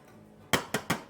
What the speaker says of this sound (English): I'm going to add red and yellow onions and garlic